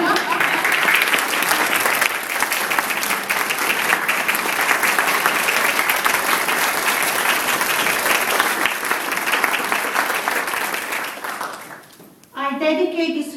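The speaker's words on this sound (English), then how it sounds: "I would like to ask you for one standing round of applause" A standing round of applause at a graduation, a loud, dense crowd clapping that rolls on for about eleven seconds, then fades out as a voice resumes speaking.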